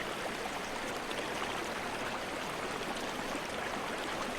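Flowing water of the Ganges river rushes in a steady, broad, unbroken wash, close and fairly loud, with no voices or other sounds.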